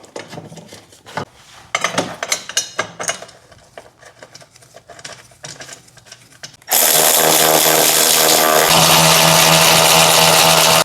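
Bolts being reinstalled on a BMW X7 cross brace: scattered metallic clinks and tool taps, then a loud, continuous power-tool whir that runs to the end.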